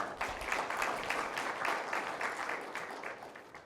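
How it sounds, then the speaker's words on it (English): An audience at a blockchain capital markets conference gives the speaker a round of applause, with dense clapping that is loud at first and gradually tapers off toward the end. "Let's give you a big round of applause first."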